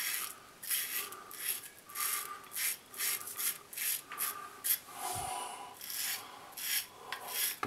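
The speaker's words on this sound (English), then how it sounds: "It's actually quite a light razor, so you need to be careful that you don't press too hard, really." A light razor scrapes across a beard in short, repeated raspy strokes, close and fairly quiet, with brief pauses between passes.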